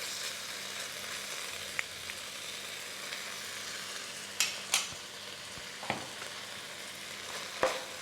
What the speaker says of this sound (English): Alright, so I'm going to put in my onions, put in some ginger garlic paste,